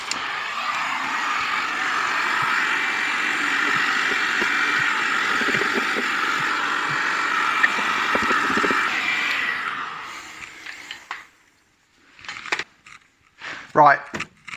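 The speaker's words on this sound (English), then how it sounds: "use a heat gun just to get the big bits off" A heat gun roars steadily while stripping the inner wheel arch of a Vauxhall Nova SR, a loud broadband blowing hiss that cuts off near the end, leaving a few brief knocks and scrapes.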